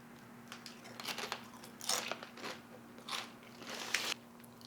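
Doritos Flamin' Hot Nacho tortilla chips are bitten and chewed up close, a series of sharp, crackling crunches in uneven bursts over a faint steady hum.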